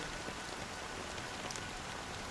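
Steady rain falls in a scene from the Honkai: Star Rail video game, a dense, even patter of drops on surfaces that holds at a constant level throughout with no voices.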